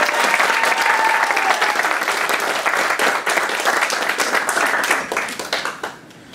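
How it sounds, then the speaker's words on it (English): Enthusiastic audience applause at the Siskiyou Startup Weekend 2017 event, a loud, full burst of clapping that holds for several seconds and then fades out. "Can we give them a round of applause?"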